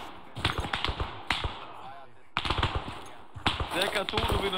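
Gunfire in the military video game Arma III comes as sharp bursts and single shots, some near and some farther off, while players talk over the radio.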